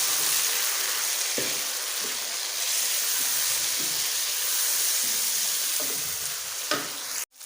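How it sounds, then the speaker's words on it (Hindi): Chicken fries with onions and tomatoes in a pan, a loud continuous sizzle broken by occasional stirring scrapes, ending with a sharp clatter. "अब यखनी से निकाल कर इसमें चिकन डाल देंगे और इसको भी इसके साथ फ्राई कर लेंगे"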